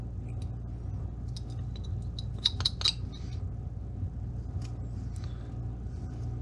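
A knife carves a small, shallow cut into wood, producing faint scraping and clicking strokes clustered in the middle, close by over a steady low rumble of background noise, with no talking.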